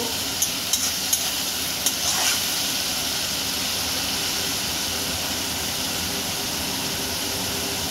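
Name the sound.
stirring spices frying in oil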